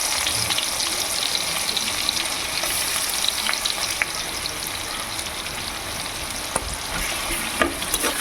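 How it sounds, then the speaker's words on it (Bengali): Onions frying in hot oil with whole garam masala for a fish biryani, a steady close sizzle with occasional stirring clinks and no talk. "পেঁয়াজটাকে একটু ভেজে নেব লাল লাল করে"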